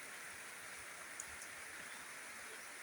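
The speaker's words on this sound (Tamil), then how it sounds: "மழை பாருங்க அடிச்சுட்டு ஊற்றுது." Heavy rain pours down around a village temple, a steady, even hiss of falling water with no breaks, moderately distant and with no voices over it.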